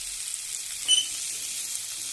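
Soy sauce hits pepper chicken frying in a pan, a faint, even hissing sizzle that barely swells for a moment, with no talk.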